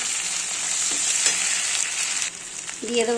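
Grated onion, chopped tomato and ground spice paste fry with potatoes in a pan, giving a bright, steady sizzle with stirring. The sizzle drops briefly, then a short tonal clink sounds near the end.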